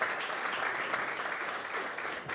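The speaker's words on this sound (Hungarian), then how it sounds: "ő neki még nagyobb tapsot kívánok" An audience applauds during a visit by a former Olympian and Paralympic champion to a village community event, a thick and even wash of clapping that holds steady throughout, moderately distant with no voices.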